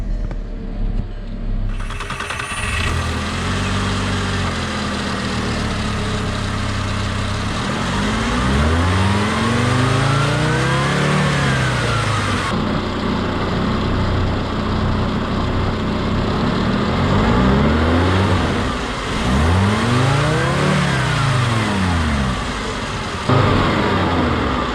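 A stock 2006 VW Rabbit engine revving repeatedly, with several rising and falling sweeps over a steady idle, close and loud with no talking.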